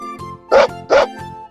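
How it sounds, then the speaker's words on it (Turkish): A dog barks twice in quick succession, loud and close, with a soft musical backing underneath. "Köpekler hav hav der."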